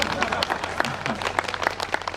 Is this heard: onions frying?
no